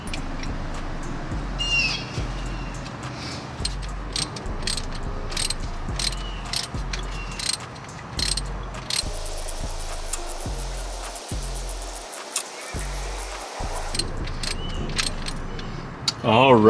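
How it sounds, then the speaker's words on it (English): Metallic clinks, ratcheting and scraping ring out as the crank pulley is worked off a 4th-gen Toyota 4Runner engine, with irregular taps and rattles up close and a few deeper thuds alongside. "Next thing we need to do now is remove the crank pulley."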